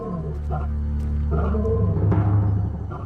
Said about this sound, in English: We heard what it sounds like for a male lion to scream from pain.